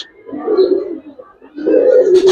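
Kaldom pigeons give two low, throaty coos close by, separated by a short pause, with no talk over them.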